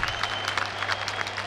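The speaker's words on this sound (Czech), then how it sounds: "to co sklidil obrovský potlesk publika" An ice hockey arena crowd at a Czech league game between LHK Jestřábi Prostějov and ČEZ Motor České Budějovice applauds in a steady, dense wash of clapping with a low hum underneath.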